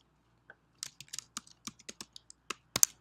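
A password is typed on a computer keyboard as a quick, uneven run of close, crisp key clicks, ending with a louder final keystroke in an otherwise silent room.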